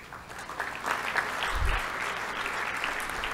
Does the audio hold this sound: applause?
yes